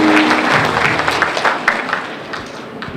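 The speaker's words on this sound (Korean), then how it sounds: "다시 한번 큰 박수로 보내주십시오" Audience applause at a book launch event for a Daejeon education superintendent candidate, a dense steady clapping that fills the room and fades slightly toward the end, with faint voices underneath.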